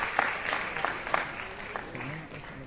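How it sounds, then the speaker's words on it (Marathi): Applause from an audience at a festive anniversary inauguration ceremony, steady and moderately loud, with scattered sharper claps. It runs for a couple of seconds and fades slightly toward the end. "मला वाटतं आपल्या टाळ्या जोरदार झाल्या पाहिजे"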